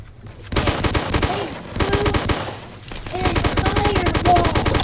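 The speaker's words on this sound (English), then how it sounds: "They're blowing up the wall!" Dense bursts of rapid gunfire and blasts ring out in a Roblox battle where a giant tank blows out an entire wall, loud and close, with repeated volleys stopping and restarting.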